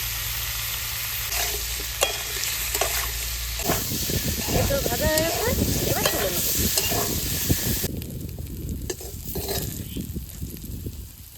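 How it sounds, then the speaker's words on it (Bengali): Boiled young jackfruit pieces frying in oil with salt for a prawn curry, a loud crackling sizzle that swells in the middle, with spatula scrapes and faint voices under it. "এবার সিদ্ধ আচরগুলো ভেজে নেব একটুখানি লবণ দিয়ে দেবো"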